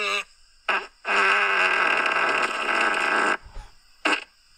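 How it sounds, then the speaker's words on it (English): A loud, long fart blares in several bursts, two short blasts, then a sustained buzzing rasp lasting over two seconds, followed by a small sputter and one final short burst, close and prominent. "It's like a fart yell."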